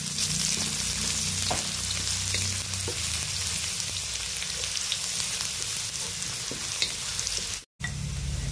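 Garlic and onion sautéing in a hot pan, giving a dense, even sizzle that continues steadily with a few faint stirring taps and a brief dropout near the end; no speech.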